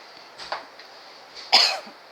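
A single sharp cough after a faint throat sound, close and short, in an otherwise quiet room.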